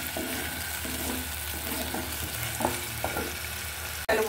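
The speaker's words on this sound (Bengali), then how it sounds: "পেঁয়াজটা একটু ভাজা হয়ে গিয়েছে" Onions frying in oil in a home kitchen pan, a steady close sizzle with occasional stirring clinks, ending in a sharp knock.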